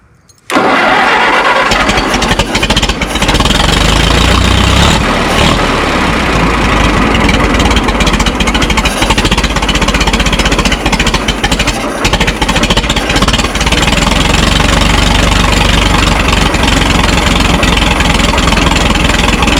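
A Minneapolis Moline Z tractor engine starts and runs at a slow, laboring idle. The rumble is loud, close and continuous, with no talk over it.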